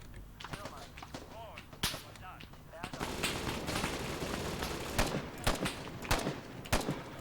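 Rifle fire in ARMA 3's Cold War Germany mod, with sharp gunshots cracking repeatedly, sometimes in quick bursts, over a dense busy battle background with other weapons firing at a distance.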